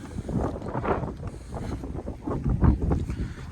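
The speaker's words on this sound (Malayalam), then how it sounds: "ഇവിടെ നല്ല കാറ്റുണ്ട് കേട്ടോ" Strong wind at a temple site in Tamil Nadu buffets the microphone in steady, roaring gusts, with a low rumble that swells and falls throughout.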